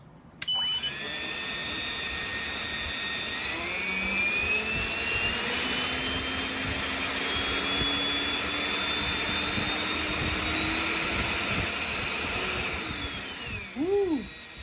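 A drone thruster mount spools up with a loud continuous turbine-like whine that holds steady for more than ten seconds, its pitch rising slightly, then winds down at the end.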